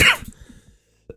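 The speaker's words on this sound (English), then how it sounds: "I'm sorry I keep coughing throughout this video" A single harsh cough bursts out up close, trailing off into a short rasp, followed by a faint throaty catch a moment later.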